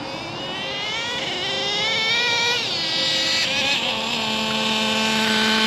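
Nitro engine of a Traxxas T-Maxx RC truck running close by, a loud buzzing whine whose pitch wavers and climbs before settling into a steady high idle.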